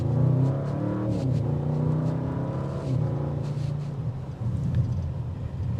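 A 2025 Audi RS7 Performance with its 621 hp engine pulls hard under acceleration, a loud, continuous, deep growl with a rising tone that holds throughout, heard from inside the long car with no talking.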